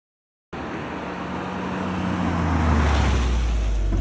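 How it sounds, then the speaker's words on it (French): Toyota GR Yaris with its 1.6-litre turbocharged three-cylinder accelerating, a steady loud engine roar that climbs in pitch and volume after a brief silent start, heard alone without talk. "Le son est aussi très agréable et quand on appuie sur le champignon"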